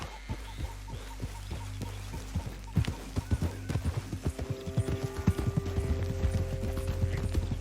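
Hooves clip-clop steadily on a horse being ridden in the western game Red Dead Redemption 2. The even, close hoofbeats build in pace and loudness as the horse speeds up, with faint game ambience behind.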